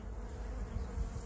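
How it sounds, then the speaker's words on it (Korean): Honeybees buzz steadily and close up while feeding on flowering boxwood in a garden nursery, a continuous droning hum with no talk. "정원수 조경이로 가꾸는 희양목 꽃이 이렇게 피니까 꿀벌들이 푹 빠져 있습니다"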